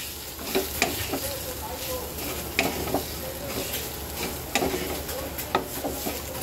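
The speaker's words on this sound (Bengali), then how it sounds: "এবার আমি এটাকে সুন্দর করে কষাবো" Potatoes sautéing in a pan with turmeric, coriander powder and salt: a continuous sizzle broken by irregular scraping and stirring strokes, close and moderately loud, with no talking.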